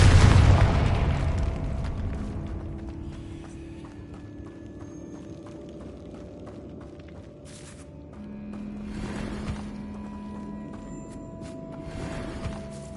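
In Hogwarts Legacy, a Confringo spell sets off a loud explosive boom that fades into the game's ambience, with soft clip-clopping hoofbeats and later swells of magical whooshing.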